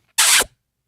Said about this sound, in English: And then that's the sound of me kissing you.